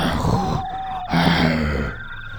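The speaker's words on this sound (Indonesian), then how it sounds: "Lagi-lagi keluar suara seperti orang ngorok dari mulut makhluk berbau busuk itu." A rotten-smelling creature in an Indonesian horror audio drama lets out deep, snore-like groans, two drawn-out rasping bursts voiced by a performer, close and fairly loud.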